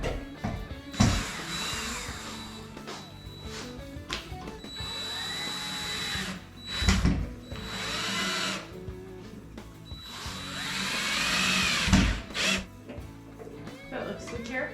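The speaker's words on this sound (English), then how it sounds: "So I'm just gonna go drill out these holes real quick" A power drill bores holes in a metal plate for a lighting bracket. It whirs and grinds in several bursts of a few seconds each, with short pauses and background sounds between them.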